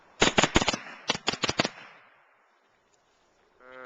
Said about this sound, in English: You just do like 5 shots rapid.